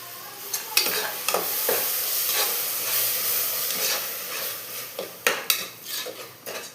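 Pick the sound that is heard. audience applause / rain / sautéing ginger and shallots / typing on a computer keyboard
sautéing ginger and shallots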